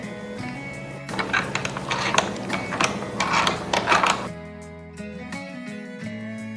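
A hand-cranked cavatelli pasta machine rolling dough gives a steady run of clicking, ratcheting mechanical rattle for a few seconds before easing off into quieter whirring.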